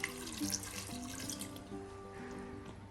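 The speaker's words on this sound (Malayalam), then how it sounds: "ഇത് മുങ്ങിക്കിടക്കാൻ ആവശ്യത്തിനുള്ള വെള്ളം" Water pours steadily into a pot of lentils and spinach, a continuous close splashing gurgle lasting a few seconds, faint and without talk.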